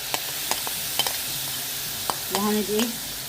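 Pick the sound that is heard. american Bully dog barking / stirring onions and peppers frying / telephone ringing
stirring onions and peppers frying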